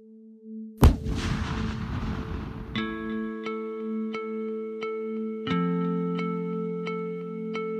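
A single sharp blast from an explosive charge detonated by army bomb disposal technicians, heard close and loud and followed by a fading rumble, while a steady electronic tone with repeated beeps runs through the clip.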